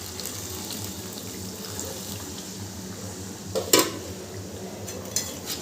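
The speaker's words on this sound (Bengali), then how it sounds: "দিয়ে দিচ্ছি গরম জল।" Hot water poured into a simmering desi chicken curry in a pot makes a steady, soft splashing stream, interrupted midway by a brief clink of a utensil against the pan.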